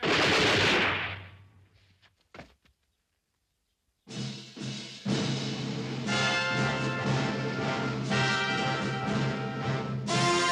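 Gunfire in a western film battle scene: a burst of shots, a short pause, then a loud, sustained barrage of rapid gunfire and battle noise continuing to the end.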